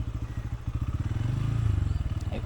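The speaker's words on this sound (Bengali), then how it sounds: "সো শেডে বাইকটা পার্ক করে ফেলি।" A motorcycle idles and rolls slowly into a campus parking shed after rain, its engine a steady, near, low throbbing rhythm that swells slightly, with a light clatter near the end.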